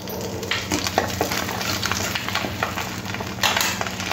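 Panch phoron spices crackle and sizzle in hot oil left over from frying fish, a dense steady spatter close up with occasional pan scrapes and no speech.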